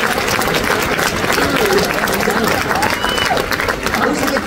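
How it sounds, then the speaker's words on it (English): A large crowd applauds in a dense, sustained wash of clapping mixed with cheering and babbling voices, loud and steady throughout. "So give you folks a round of applause."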